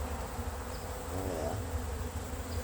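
Honey bees buzz steadily and close around an open skyscraper beehive during an inspection, a dense continuous hum with occasional louder passes.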